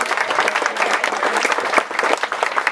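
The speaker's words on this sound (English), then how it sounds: "Give yourselves a round of applause." A dense round of applause from the audience at a Democratic club's annual summer celebration, continuous brisk clapping throughout.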